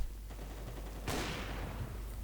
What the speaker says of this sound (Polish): tam jakieś strzały za mną